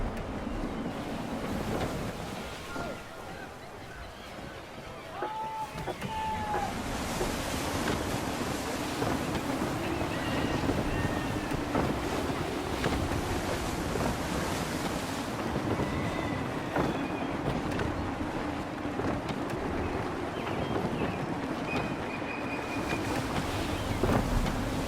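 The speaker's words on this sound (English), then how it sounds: "Wind looks to be shifting. Stay alert, Connor. Gusty winds can be difficult to manage." Sailing ship at sea in the Assassin's Creed 3 video game, with steady gusty wind roaring over crashing waves and water rushing past the hull, a continuous loud wash of noise throughout.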